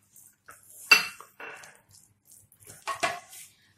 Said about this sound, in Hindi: ककुम्बर को और दही के साथ हम अच्छे से मिक्स कर लेंगे